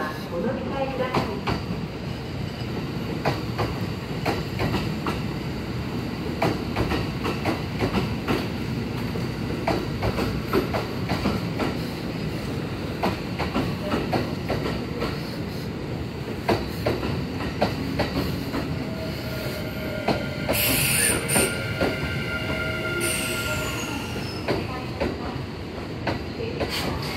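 A Kintetsu Series 21 train, running out of service, arrives at Yamato-Saidaiji station with a steady rumble and wheel clatter throughout, then a high brake squeal near the end as it stops, and a station announcement voice in the background.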